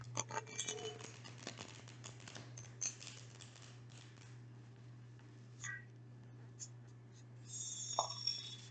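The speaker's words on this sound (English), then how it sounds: "Just one shuffle on this Celtic deck." A Celtic tarot deck is shuffled once: soft papery riffling and card slaps, faint and close, over a steady low hum with small clicks and scrapes.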